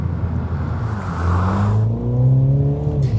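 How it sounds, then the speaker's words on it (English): A MINI JCW GP's engine revs hard and climbs through the range, loud and close, its rising exhaust drone broken by sharp crackles. "the whole performance is accompanied by various evocative exhaust crackles"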